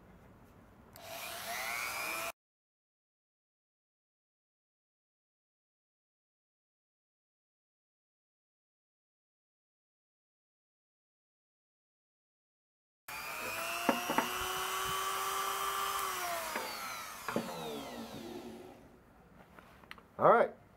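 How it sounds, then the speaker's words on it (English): A Wen variable-speed rotary tool running at low speed with a 60 grit sanding drum grinds a deer antler in two whining bursts separated by a long silence, and the second stretch is rougher and more uneven. "I got my Wen rotary tool, variable speed. I have it set at about 3 and a 60 grit sanding"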